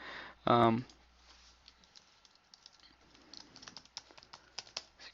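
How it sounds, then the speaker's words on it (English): A search keyword is typed on a computer keyboard as a string of light, quick key clicks following a brief voice at the start, with the clicks growing busier toward the end. "So you can jump in here and type in a keyword."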